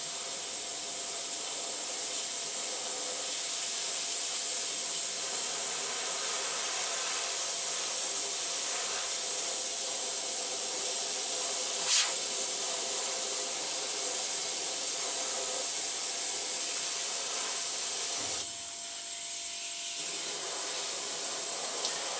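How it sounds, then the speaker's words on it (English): An airbrush sprays a base layer of skin-tone paint in a steady, close hiss that runs almost unbroken, briefly dipping near the end before resuming, with no voices. "When we airbrush the base"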